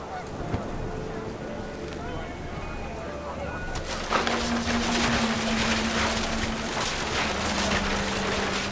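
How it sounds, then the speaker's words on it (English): Geese in the video game What Remains of Edith Finch honk repeatedly in a steady, distant-sounding flurry over a constant background rumble, growing busier and louder partway through. "panicked geese appeared and quickly went"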